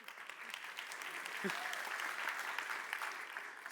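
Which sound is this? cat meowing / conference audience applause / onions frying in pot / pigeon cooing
conference audience applause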